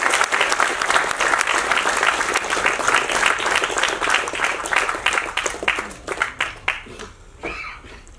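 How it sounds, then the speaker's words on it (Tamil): Audience clapping at an award ceremony honoring people for social welfare work, a full, loud round of applause that stays dense, then breaks into scattered claps and tapers off. "நல்லா கைத்தட்டை உற்சாகமா இருக்கலாம்."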